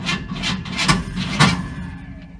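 A 1972 Chevy C10 engine cranking without catching, a short run of rhythmic starter churns of about four pulses, close and fairly loud, that fade out without the engine firing.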